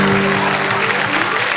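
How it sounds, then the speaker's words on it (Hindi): Audience applause at a Hindi comic poetry show, a full steady wash of clapping held at one loud level from start to finish, with a low steady hum running beneath it. "एक बार जरा तालियां"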